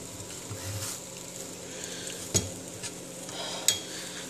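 Quiet stirring in a pot or pan: soft, faint scraping and swishing with a few light clinks of a utensil against the side.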